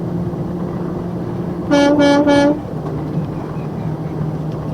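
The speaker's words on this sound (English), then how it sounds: "The kid wanted the air horn." A loud air horn honks in a short burst of about a second, standing out sharply above a steady background rumble.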